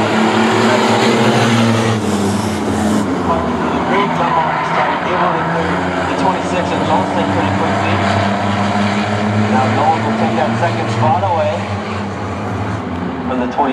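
Race cars in a six-shooter heat on the Star Speedway oval, engines droning loudly and steadily as the pack circles, with a commentator talking over the roar the whole time.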